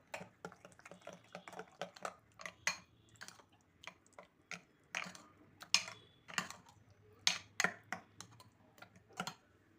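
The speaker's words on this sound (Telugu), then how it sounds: "ఇప్పుడు రైస్లో కాబట్టి కొంచెం పెరుగు కలుపుతున్నాను, కొంచెం కలుపుతున్నాను పెరుగు కూడా" A spoon mixes curd into cooked rice in a bowl, giving a steady run of soft, quick clicks and taps, close and quiet, with no talk over it.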